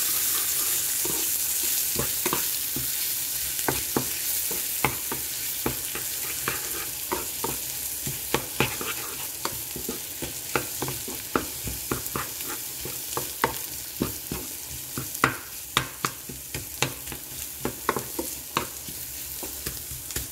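An egg stirred and fried in a pan for Maggi noodles: steady close sizzling with frequent sharp scraping clicks of the utensil against the pan, continuous throughout with no talk.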